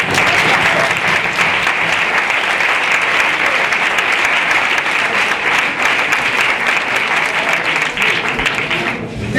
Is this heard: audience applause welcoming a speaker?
yes